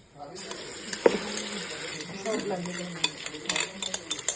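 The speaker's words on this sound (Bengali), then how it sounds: "এখন আমি যে ড্রাগন চিকেনটা মাখিয়ে রেখেছিলাম আমি এটা দিয়ে নিচ্ছি।" Marinated dragon chicken with fried onions cooking in a pan, with stirring and scraping of a utensil, clinks of cookware and a soft background sizzle, heard close up.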